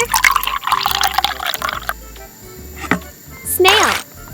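Water is poured in a miniature kitchen while squid sashimi is made, a short, close trickling pour at the start followed by small drips and light clicks of tiny utensils.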